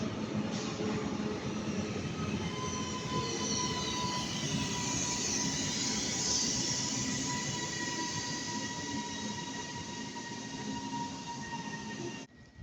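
A British Rail class 331 electric train runs through Stockport station with a sustained rumble, steady wheel noise and high tonal whine and squeal lasting throughout, cutting off abruptly at the end.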